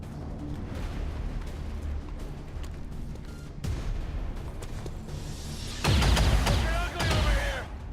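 Enemy gunfire in the strategy game XCOM 2, a sharp boom followed later by a loud burst of rapid shots with ringing debris, over a low rumbling game background.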